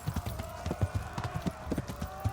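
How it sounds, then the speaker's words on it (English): Horse hooves pound in a quick, even galloping rhythm in the video game Kingdom Come: Deliverance. The hoofbeats are close and steady, with a faint tonal game sound running underneath. "and the horse will come running to you"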